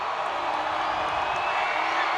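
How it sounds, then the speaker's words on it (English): Basketball fans in a high school district championship crowd roar in a steady, even wash of cheering and noise that holds for the whole stretch, with no single voice standing out. "Spartan fans making some noise."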